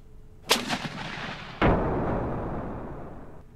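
Two heavy tank gun shots in a tank simulator game, a sharp crack followed about a second later by a louder booming report that rolls away in a long decaying rumble.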